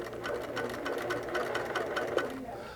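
A sewing machine sews cording onto a pillow, a close, continuous rapid stitching rattle with a steady motor hum.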